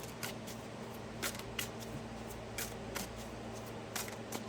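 Tarot cards being shuffled by hand, a close, soft, repeated riffling and flicking in quick bursts over a low steady hum, with no talking.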